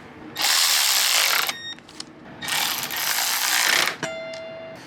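A ratchet spins two 10 mm bolts into the plastic radiator fan of a 2006 Honda CR-V, two bursts of rapid, close clicking whir with a short pause between, followed by a brief metallic clink.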